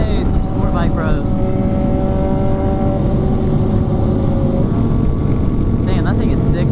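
Sport bike motorcycles riding by on a busy street in Meridian, a loud, steady engine roar that holds throughout with a few higher revving whines rising over it and voices mixed in.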